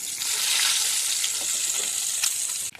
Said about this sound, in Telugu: ఎగ్స్ ఈ విధంగా వేగేలాగా రెండు వైపులా తిప్పి వేయించుకోవాలి